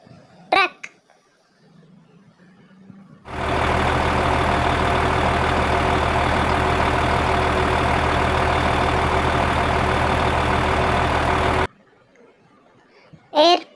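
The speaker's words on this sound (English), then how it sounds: "Truck," A truck engine idles with a steady, loud, deep rumble for about eight seconds, framed by a voice speaking briefly before and after.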